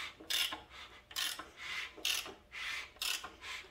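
Raspy scraping and rubbing of metal parts as a Honda B16 engine's crankshaft is turned by hand after piston installation, repeating in short strokes about once a second, close up and fairly quiet.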